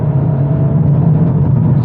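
Mercedes CLA45s AMG engine under load while driving, a steady low rumble and whir that holds evenly and fairly loud throughout, with no talking over it.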